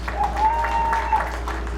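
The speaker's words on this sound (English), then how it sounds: "Big round of applause." Applause for a varsity girls softball team at a high school athletic awards ceremony, steady clapping from an indoor audience alongside voices in the room.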